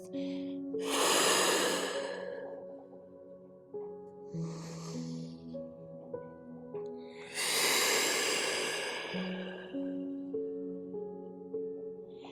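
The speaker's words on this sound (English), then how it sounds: "take a breath in through the nose and breathe out through the mouth" During a classical Pilates flow, a person takes a long, loud inhale through the nose and later a long exhale through the mouth, both near and breathy over soft, steady instrumental music.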